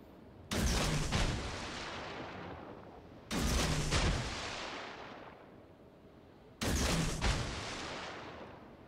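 Naval gunfire from the battleship Wyoming in the World of Warships video game: three heavy broadside salvos, evenly spaced, each a sharp loud blast trailing into a long rumbling decay, with no talk.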